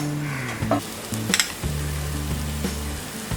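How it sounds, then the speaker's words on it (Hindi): Crushed garlic frying without oil in a non-stick pan, a soft sizzle with stirring scrapes and light clinks of utensil on metal, close by. "पैन में डालेंगे ये 1 टीस्पून क्रश्ड गार्लिक"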